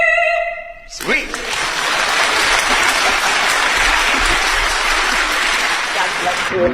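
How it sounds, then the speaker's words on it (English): An indoor audience bursts into loud, sustained applause with clapping and finger snapping, a dense steady roar that follows a brief tonal passage and then cuts off abruptly at the end. "Definitely not allowed to clap like that or snap like that."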